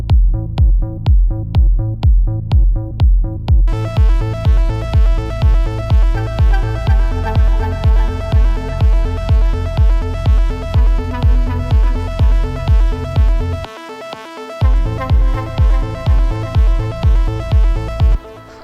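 Melodic techno kick drum thumps in a steady four-on-the-floor pulse with a deep synth bass underneath, loud and close, the pattern briefly dropping out near the end before resuming.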